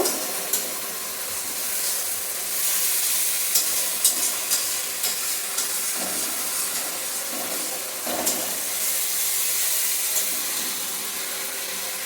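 Spice paste sautés with a little water in a pan for a Bengali potoler dhokar dalna. A steady close sizzle runs throughout, broken by occasional clinks and scrapes of stirring, with no talk.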